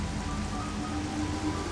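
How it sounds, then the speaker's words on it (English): Dense, steady rain patters and splatters on a helmet in the Metroid Prime Remastered video game, a constant, even hiss with no pauses. "all these effects like rain splattering on your helmet"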